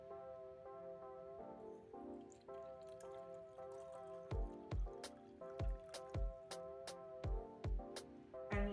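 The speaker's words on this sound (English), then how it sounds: "Now, we'll add some distilled water into the beaker." Distilled water is added to a glass beaker in a chemistry lab, producing a series of soft, irregular drips and splashes under a steady musical tone.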